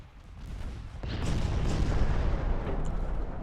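Naval guns fire in the Ultimate Admiral Dreadnoughts naval warfare game during a 1930 destroyer battle: a quiet start gives way to a swelling, sustained rumble of booming gunfire with sharp cracks on top.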